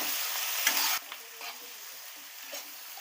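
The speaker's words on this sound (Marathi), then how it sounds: "तर आपण आपले टोमॅटो टाकून घेऊया" Tomatoes dropped into a pan of sautéing paneer masala, a loud sizzle that suddenly drops to a quieter, steady frying hiss with a few faint stirring sounds.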